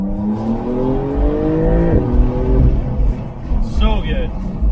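A 2022 Porsche 911 Targa 4S accelerates hard, its engine note climbing in rising sweeps through quick gear changes, close and loud, with someone talking over it.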